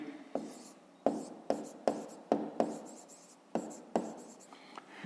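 A pen scratches across paper in a series of about eight short, separate strokes, each with a sharp start, close and fairly quiet, as a grade-five math exercise is written out.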